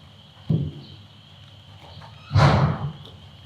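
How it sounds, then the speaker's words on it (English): Two dull hoof thuds from a young colt stepping slowly with a rider on its back for the first time, spaced well apart, close by with a quiet background hum between them. "these are the first steps, right, that this horse has ever taken with somebody actually on his back"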